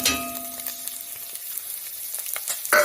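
Scallion and garlic sizzle in a hot pan with a steady crackling frying hiss, a few clinks of a utensil against the pan and a brighter burst of sizzle near the end; no talking.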